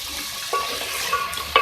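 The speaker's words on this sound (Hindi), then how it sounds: "सबसे पहले मैं ऑयल में आलू ऐड करूँगी" Cubed potatoes, about 300 grams, hitting hot oil in a pan for a home-style sabzi, giving a steady broadband sizzle with a few sharper crackles and stir-like bursts, close and alone.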